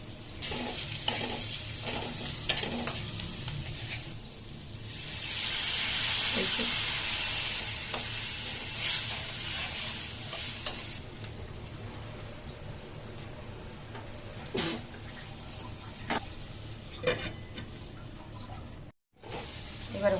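Dried loitta fish (shutki) frying in a pan, a steady soft sizzle with stirring scrapes throughout, swelling into a louder hiss for a few seconds, with a brief break near the end.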